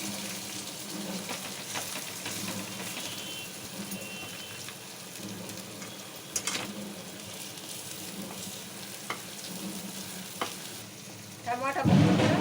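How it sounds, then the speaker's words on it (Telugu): Prawns and tomato pieces frying in oil for a prawn curry, a continuous close sizzle with occasional pops and stirring clinks, swelling into a louder burst of hissing near the end. "రొయ్యలు టమాటా ముక్కలు ఆయిల్లో ఫ్రై చేసుకున్నానండి."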